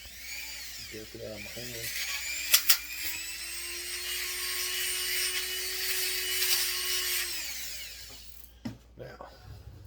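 A Dremel rotary tool grinding on a part of a Husqvarna 55 chainsaw, a steady high whine held for about six seconds close by, preceded and followed by brief handling noises and someone talking.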